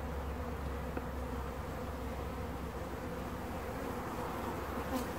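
Steady, dense buzzing of many honey bees hovering close by a hive, a continuous hum with no voices.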